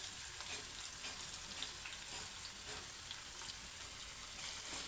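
Thinly sliced onions and green chilies sizzle and fry in oil in a pan with a steady, fairly quiet hiss. Faint stirring scrapes and small crackles sit over it, and there is no talk.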